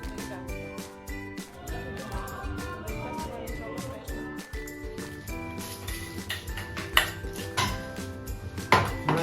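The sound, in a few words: dishes and cutlery clinking during breakfast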